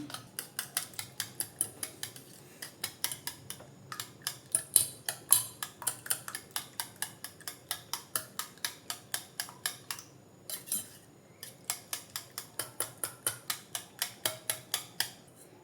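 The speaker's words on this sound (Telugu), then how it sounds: "ఎక్కడ ఉండన్నది లేకుండా ఈ విధంగా అయితే బీట్ చేసేసుకోవాలి" Eggs with salt, chili and masala beaten in a bowl, a rapid regular series of sharp clinking whisk or fork strikes against the bowl, close and steady with a few brief pauses.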